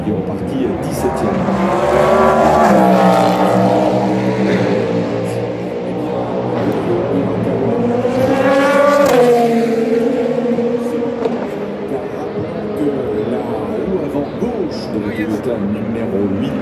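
Porsche Proton Competition race car, number 99, at the Le Mans 24 Hours, its loud engine note rising and falling as it passes close by while a commentator talks over it.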